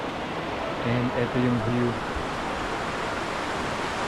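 A waterfall in Oregon sends a steady, broadband rush of falling water close by, with a person talking briefly over it.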